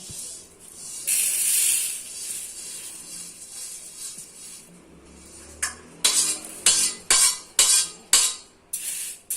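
Roasted sambar powder spices are poured out with a soft, dry rushing hiss, followed by a run of sharp metallic spoon clinks against a vessel, close by.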